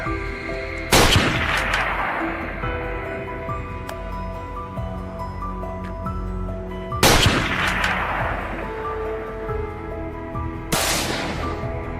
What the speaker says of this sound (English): Without hesitation, we opened fire.